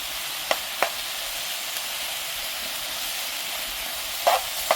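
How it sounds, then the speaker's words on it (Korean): Pork and vegetables stir-fried in a frying pan for spicy Korean pork, a steady broadband sizzle running throughout with a few short clinks of utensil or pan toss standing out, no talking. "야채에서 물이 나올 때까지 볶는 거예요."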